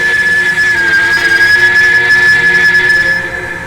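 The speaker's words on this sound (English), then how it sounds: "Whistle." Loud, steady steam whistle from a K&L PRR I1sa 2-10-0 locomotive in Trainz 2019, one sustained blast of about three seconds that cuts off and fades at the end.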